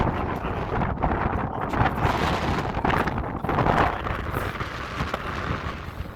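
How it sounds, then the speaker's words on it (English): Strong wind buffets the microphone on an exposed, misty mountain trail near Timberline Lodge on the Pacific Crest Trail, a continuous loud roar with surging gusts and no speech. "it's really windy and misty, so it's double cold"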